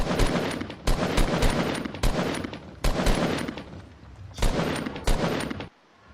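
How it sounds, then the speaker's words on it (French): Rapid automatic gunfire in the Fortnite video game, loud dense bursts of repeated shots broken by brief pauses, about six bursts in close succession, then ending abruptly. "Je vais m'entraîner à tirer."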